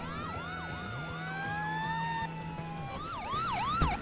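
Several emergency vehicle sirens in the Emergency 4 video game, set in Los Angeles, overlap with rising wails and rapid yelping sweeps, steady and moderately loud, with a low horn-like tone underneath.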